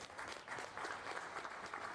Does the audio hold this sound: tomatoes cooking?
no